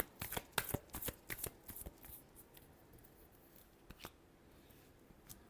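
Tarot cards being shuffled close by, with a quick flurry of crisp riffling flicks at first, then a few sparse, softer snaps as the shuffle winds down, all quiet and with no one speaking.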